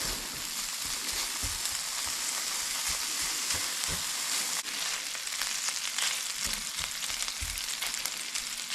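Bacon fries steadily in a pan for a pork katsu bacon jam, giving a continuous close crackling sizzle with frequent small pops and occasional louder spits, without any voices.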